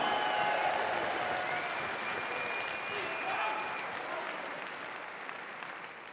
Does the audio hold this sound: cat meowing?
no